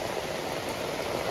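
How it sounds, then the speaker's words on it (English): Heavy, non-stop rain pours across a neighborhood in the Gambia, West Africa, as a steady, dense, loud hiss with no voices. "Yeah, it's a very heavy rain."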